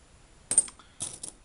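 Old coins, a mix of George V, George VI and late Victorian pieces, clink and jingle in two short bursts as they are dropped and handled, bright metallic and close, with no talking.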